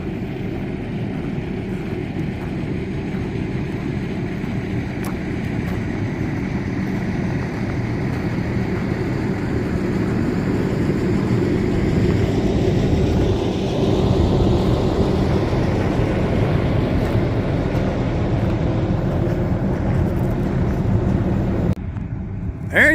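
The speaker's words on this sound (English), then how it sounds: "The tractor trailer just pulled up." A tractor trailer truck rumbles nearby in Columbus, New Mexico, its engine producing a loud, continuous low drone that holds steady for a long stretch before cutting off near the end.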